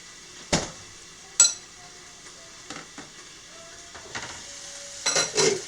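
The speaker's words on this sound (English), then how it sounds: "Can you hear that sizzle?" Faint sizzling of eggs frying in a pan for an omelet, punctuated by sharp clinks and scrapes of a fork against cookware.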